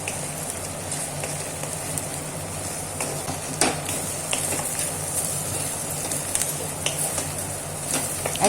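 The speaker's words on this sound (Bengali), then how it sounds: "এবার এই সবটা একসঙ্গে নাড়াচাড়া করে ভালো করে মিশিয়ে নেব।" Stale roti pieces with salt being stirred in a pan, a steady close scraping and soft sizzle with scattered clicks of the spoon against the metal, continuing evenly with no talk.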